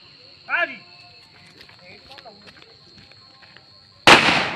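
A firecracker set off to celebrate an India cricket win bursts in one sharp, loud crack near the end, after a quieter stretch with a brief whistling squeal and faint scattered sounds.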